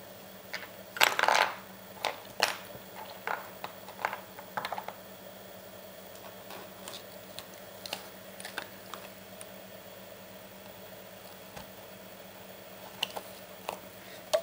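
Bobbin lace bobbins tap and click sparsely as a light blue pair is added beside the pin, with quiet, irregular knocks over a hushed background.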